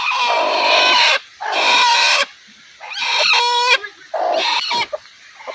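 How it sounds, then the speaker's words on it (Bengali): A hen with newly hatched chicks clucks loudly and close in repeated bursts, alone with no talk, with some higher chick-like chirps mixed in. "এই মুরগিটা নয়টা ডিম দিয়ে বয়সলাম ওই দেখ নয়টা ডিম দিয়ে বয়সলাম নয়টা বাচ্চাই ফোড়াইছে"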